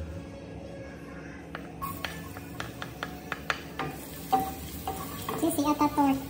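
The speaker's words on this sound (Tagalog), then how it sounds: "Pagkainit ng mantika, igisa natin yung bawang." Garlic sautéing in hot cooking oil for pansit bihon, a steady close sizzle with a few sharp clicks and scrapes of a utensil stirring against the pan, growing busier toward the end.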